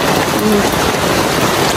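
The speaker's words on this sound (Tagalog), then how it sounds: "Malakas ang ulan, no?" Heavy rain pours down in a loud, steady roar, a dense hiss of drops hitting surfaces without pause.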